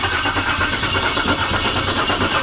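An LS V8 engine with low oil pressure cranks and fires, a loud, steady rhythmic churn with regular pulsing close by, heard alone with no talking.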